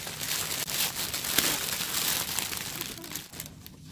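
Crinkly plastic packaging around a reusable grocery bag is pulled and torn open, with continuous close crackling and rustling that fades toward the end.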